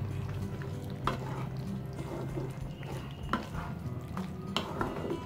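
Curry ingredients with coriander and lemon juice being stirred together in a pan, a steady scraping and mixing texture with a few sharp spoon knocks against the metal.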